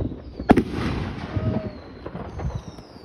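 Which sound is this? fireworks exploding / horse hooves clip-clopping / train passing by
fireworks exploding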